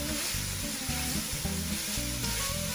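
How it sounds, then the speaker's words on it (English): Spices and garlic sizzling in a soup pot for a Tuscan white bean soup, a steady loud hiss of frying with rhythmic scraping knocks from stirring throughout. "Give this another little stir."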